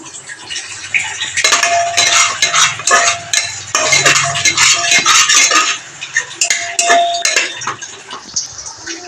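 Lentils being stirred in a metal cooking pot with tomato, salt, turmeric and green chilli: repeated scraping and clinking of a spoon against the pot in uneven bursts, close and fairly loud.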